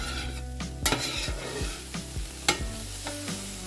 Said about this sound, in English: Just cook those until the onions are starting to turn translucent